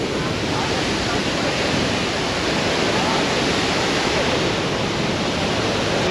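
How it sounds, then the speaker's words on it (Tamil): A powerful waterfall at Athirappally, Kerala, roaring steadily up close, a dense, unbroken wash of fast-rushing water that drowns out everything else. "ஏன்னா அவ்வளோ ஸ்பீடாக அடிக்குது அருவி"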